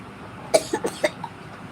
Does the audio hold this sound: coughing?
yes